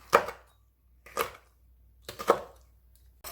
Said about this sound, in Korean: 고추 4개 썰어줄게요.